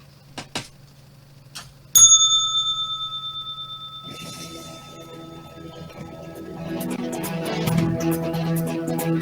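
A single sharp bell strike rings out clearly after a few soft ticks, its bright tone fading slowly, and then busy mixed background sound builds under the dying ring.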